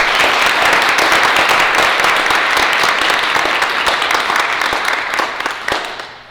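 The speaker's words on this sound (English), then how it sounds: "let's give her a round of applause" A school committee awards night audience claps loudly and continuously, a dense wash of many hands that holds steady before fading out over the last second.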